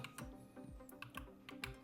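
Typing on a computer keyboard, a quiet run of distinct, irregularly spaced key clicks close up, with no talking.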